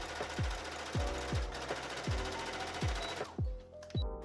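A sewing machine stitches dress pieces together for a large gown in quick bursts, each run starting with a rising whir followed by a brief pause, repeated about eight times, close and moderately quiet.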